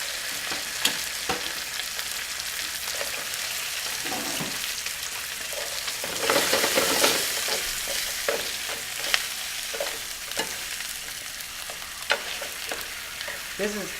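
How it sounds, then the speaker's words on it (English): Lobster claws and tail sauté in olive oil, a steady close frying sizzle with occasional sharp pops, stirring scrapes and a brief louder surge of spitting oil midway. "You take it, you saute it, you concentrate the flavor of the lobster"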